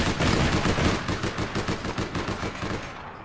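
A handheld OCA Whisper gun firing in APB Reloaded: a rapid, steady stream of sharp shots in fast automatic rhythm, loud and close, then cutting off.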